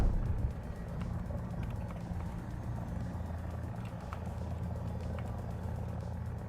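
Enemy helicopter in War Thunder air and ground simulator battle, a steady low rotor and engine drone holding at an even level throughout, with faint clicks above.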